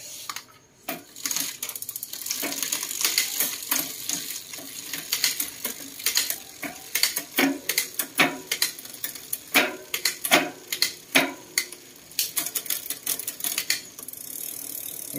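Bicycle rear derailleur with a Goatlink extender fitted, adjusted at the low limit screw, clicking and ratcheting through gear shifts as the drivetrain turns, a close series of rhythmic ticks and metallic clatters with no speech.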